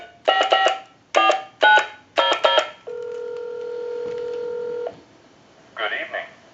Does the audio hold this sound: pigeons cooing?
no